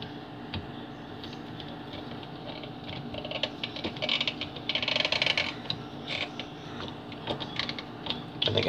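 A screw being driven into an impulse sealer by hand, a run of small close clicks, creaks and ratcheting ticks that grow busier toward the middle.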